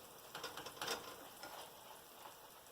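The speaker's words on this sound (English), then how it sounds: "Yeah, it's highly sizzling right now." A burger patty frying in a pan, giving a fine crackling sizzle that swells briefly and then settles into a steady, moderately quiet hiss close to the microphone, with no voices.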